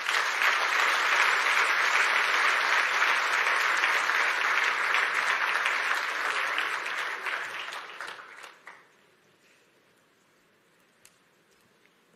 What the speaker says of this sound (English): A lot of applause for Waziri Moses Kuria.